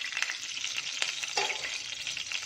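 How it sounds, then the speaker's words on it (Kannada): Mustard seeds, chana dal, urad dal, cumin and fenugreek splutter and sizzle in a small spoonful of hot oil, a close, continuous crackle with sharp pops and occasional stirring. No one speaks. "ಇದೆಲ್ಲ ಸ್ವಲ್ಪ ಚಟಪಟ ಅಂತ ಸಿಡಿಲಿ."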